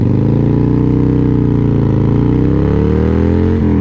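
A 2003 Harley-Davidson Fat Boy Stage II motorcycle accelerating hard from 0 to 60, its loud, close engine note climbing in pitch through the run, with a brief break near the end as it shifts gear.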